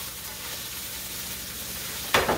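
Cube steak sears in a hot pan, a steady broadband sizzle running throughout, with a brief louder hiss near the end as the meat is shifted or pressed.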